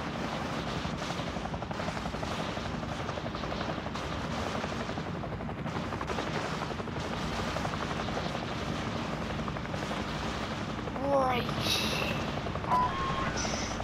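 Helicopter rotor drone in a battle royale video game, a steady continuous whir running throughout with faint scattered gunfire crackles near the end.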